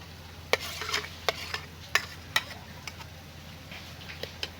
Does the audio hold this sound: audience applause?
no